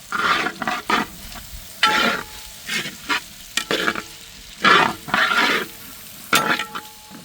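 Onions sizzle and crackle in hot oil while being stirred, with bursts of scraping and frying noise in an uneven rhythm, close up and fairly loud.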